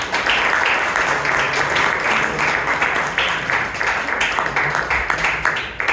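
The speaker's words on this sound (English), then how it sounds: "that evaluation deserves a much bigger applause" Sustained applause from an audience at a Toastmasters club meeting in Bangalore, dense steady clapping lasting several seconds without a break, loud and close.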